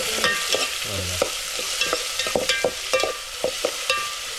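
Chicken curry base of onion, tomato and garlic frying in a pot over a stove, with a steady sizzle and repeated scraping stirs and clinks of a spoon against the pot, close and with no talk.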